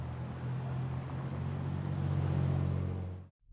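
A stopped car's engine idles with a low, steady hum and faint mechanical rumble at an even level, then cuts off abruptly just before the end.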